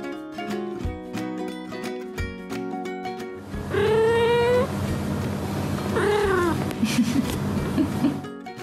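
Munchkin kitten meowing twice, loud drawn-out cries with a rising-falling pitch heard clearly over cheerful background music, followed by a few softer short mews.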